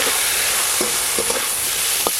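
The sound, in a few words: onion petals frying lightly in fish-frying oil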